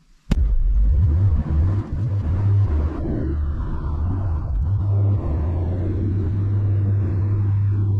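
A Honda Civic EG6 starts with a sharp click, then its engine drones steadily as the car drives toward the Spreewaldring race track, with a low, even interior rumble and mild road noise throughout.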